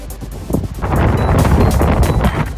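Steady, loud wind buffeting the microphone on a cold, windy waterfront with ships in Okinawa, a broad rushing roar that swells after the first half second and stays strong throughout.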